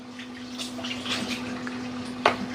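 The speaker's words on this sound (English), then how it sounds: "I just want to rinse the shells off." Tap water runs steadily over eggshells being rinsed in a kitchen sink, a continuous close splashing broken by a sharper splash near the end, with a faint mains hum underneath.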